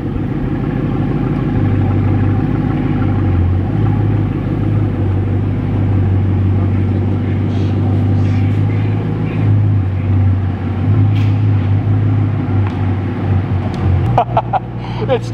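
A 1500-horsepower Bugatti Divo supercar idles nearby with a loud, continuous low engine rumble that stays steady throughout, with a few faint clicks toward the end.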